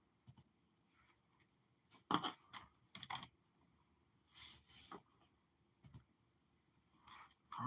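Keys are tapped on a computer keyboard during template work, coming in short, irregular bursts of quiet clicks with gaps of near silence between them.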